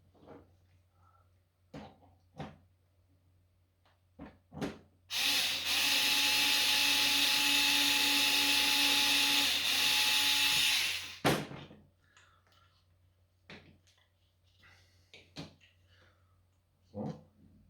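A drill runs with a 2.5 mm bit on a Wanhao D12 3D printer part, one steady high whine lasting about six seconds, framed by small clicks and handling knocks before and after.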